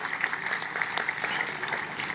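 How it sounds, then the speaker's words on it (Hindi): A church crowd claps continuously, a dense, even patter of many hands at moderate loudness. "सब अपने लिए एक जोर से ताली बजाएं"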